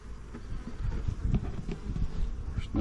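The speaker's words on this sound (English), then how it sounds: "There's some bees, not a lot." Bees in a weak beehive nuc, a low, continuous buzzing hum close by, steady with slight swells and faint rustling, no talking.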